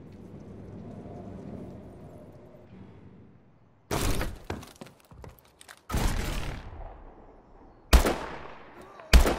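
Shotgun blasts in a first-person shooter killcam, three loud, sharp booms spaced about two seconds apart with ringing decays, the first arriving after a stretch of low ambient rumble.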